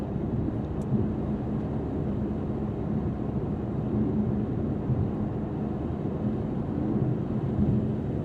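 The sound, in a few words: highway cabin road and wind noise, 2024 Mercedes-AMG GT 63 Coupe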